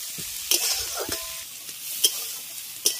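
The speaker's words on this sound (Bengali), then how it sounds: "কুঁদরিটাকে লাল করে ভেজে নিয়েছি।" Ivy gourd fries in mustard oil in a wok, a steady close sizzle broken by several sharp scraping stirs of a spatula.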